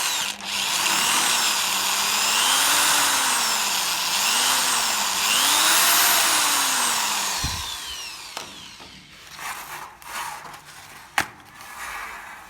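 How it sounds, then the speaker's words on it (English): A power drill whines loudly for several seconds while drilling screw holes in ceiling metal sheeting, its pitch rising and dipping as it bites in, then cuts out, followed by a few scattered knocks and clatters. "Use a screw to drill holes about 50 centimeters apart"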